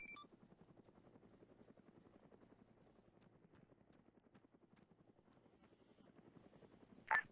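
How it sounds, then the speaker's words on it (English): A video game military helicopter, likely a Chinook, holds a steady thumping rotor chop at moderate distance throughout, and a brief sharp sound comes right at the end. "The heli is dropping off, not picking up."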